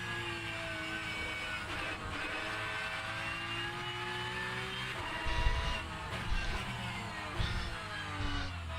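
A race car engine in a sim racing video game at Laguna Seca holds a steady, fairly quiet drone, its pitch gliding through gear changes, with a few low thumps near the end.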